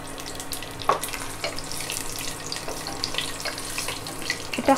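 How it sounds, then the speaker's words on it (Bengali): Whole garam masala spices fry in hot oil in a pan for a Bengali muri ghonto, a steady close sizzle and crackle with small pops, no talk. "তেল গরম হয়ে গেছে, এখন আমি গরম মশলাগুলো ফার্স্টে দিয়ে দিব।"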